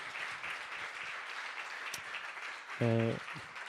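Sustained applause fills the room at a conference round table for the organisers: dense, even clapping from a sizeable audience, with a short tonal honk or voice-like burst near the end.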